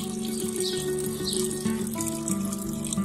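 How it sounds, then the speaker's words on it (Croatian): About a litre of water pours into a homemade pepper-and-onion insecticide mixture, a steady trickling splash over background music. "Ja ću dodati još 1 litru vode."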